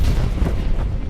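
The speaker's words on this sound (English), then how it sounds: "He looked back as the Petra running towards him were caught in the explosion of the phaser" A phaser overloading and exploding beside giant magnets in a collapsing chamber over molten rock: a loud, sustained rumbling boom with rolling low-end bursts throughout, heard alone without voices.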